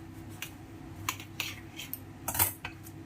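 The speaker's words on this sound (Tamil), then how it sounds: "இப்படி தான் கத்திரிக்கோல் வச்சு தான் கட் பண்ணுவாங்க" Scissors snip through a garlic butter naan in a few short, crisp cuts spaced irregularly, close and fairly faint, with no talking.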